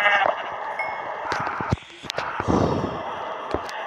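Sheep bleating in the Minecraft video game, a few wavering game bleats mixed with clicks and thuds of play, moderately loud and close.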